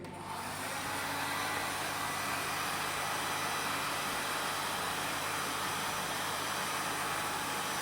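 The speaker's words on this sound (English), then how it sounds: "you have to again dry the surface. So using a dryer" A hair dryer starts up and blows with a steady, even whoosh, running continuously at close range while drying the surface of a metal sample in a lab.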